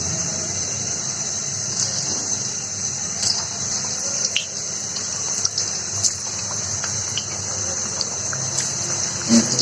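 Taro kebabs frying in oil over a low flame, giving a steady, dense sizzle scattered with small pops and crackles throughout, with no talking.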